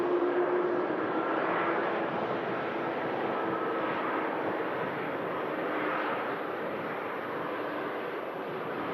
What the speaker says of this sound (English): Singapore giving way to the landing Air France in from Paris